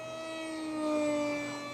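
An RC sport plane flies with a Turnigy D2826 2200Kv motor spinning a 6x5 electric prop on 3S. Its steady, high-pitched whine swells briefly as it passes, then eases off slightly.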